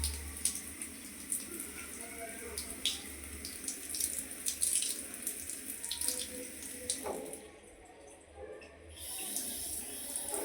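Water runs and pours over a cat named Rana in a continuous, splashy stream from a tap, dipping briefly before resuming.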